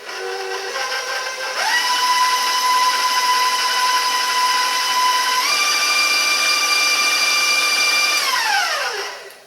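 A stand mixer whirs steadily through cinnamon swirl cake batter, its loud motor tone stepping up in speed partway through, holding, then winding down at the end, with no talking.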